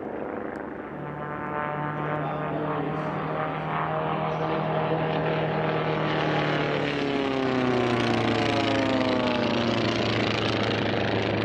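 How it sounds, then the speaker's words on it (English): Formula 1 class racing airplanes with four-cylinder air-cooled Continental O200 engines drone past in a race heat, a loud sustained propeller roar whose pitch shifts as the planes pass close, no talk. "Great sound right there, Tommy, in these Continental O200 engines, 4-cylinder air-cooled engines, just like you might have in your family Cessna 150."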